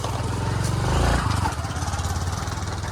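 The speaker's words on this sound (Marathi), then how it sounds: "भाऊ आता JCB चालवणार आहे." A JCB excavator's diesel engine runs close by in a village, a rough throbbing chug that swells briefly then settles into steady idle pulses, with voices faintly over it.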